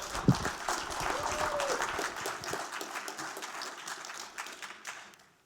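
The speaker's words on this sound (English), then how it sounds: "how about a round of applause for all three teams?" An audience at a pitch competition final gives a round of applause for three competing teams, a dense burst of clapping that builds quickly, holds steady, then thins out and fades.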